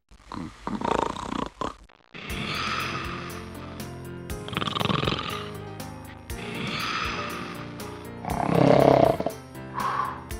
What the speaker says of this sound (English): I've tried everything to get him to stop snoring, but it's no use.